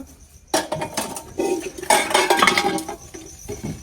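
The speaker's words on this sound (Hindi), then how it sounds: "रोज बर्तन धोने होते हैं खाने के बाद।" Dishes, pots and pans being washed by hand after a meal, with steady clinking and clattering of utensils and cutlery in irregular bursts, close and fairly loud, no talk.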